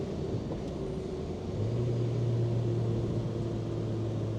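A 1972 Renault 12 Break estate car drives on the road in third gear, its engine a low steady drone that rises slightly in pitch partway through, with constant road rumble heard from inside the cabin and no talk.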